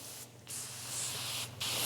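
Aerosol spray foam is sprayed in hissing bursts, with two short pauses between them; the spray is close and moderately loud, and no one talks.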